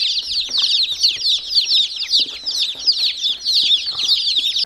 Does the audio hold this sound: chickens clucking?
yes